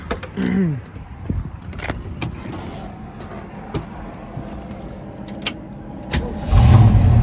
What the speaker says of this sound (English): So I'll start the car, we can listen to the car idle.